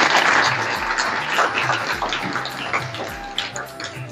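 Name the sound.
applause welcoming the sangh leader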